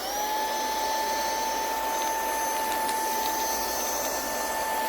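A DRECELL handheld cordless car vacuum with a brushless motor runs on its first mode, a steady high-pitched whine with a constant loud roar as it sucks up peanuts, with faint rattling pickups and no talking.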